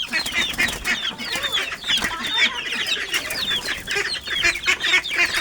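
Chickens clucking and calling together while being fed feed and wheat, a steady busy chorus of overlapping clucks and chirps close by, with no talking.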